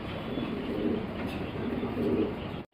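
Soft, low cooing from a pair of Bokhara pigeons at a pigeon farm continues steadily throughout, with a faint hum in the background and no talking.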